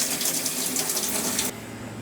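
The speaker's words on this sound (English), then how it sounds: "So turn the water on." Water gushes steadily through a pipe or tap just after being turned on during a plumbing job, a constant hiss that drops slightly in level partway through, with no voices.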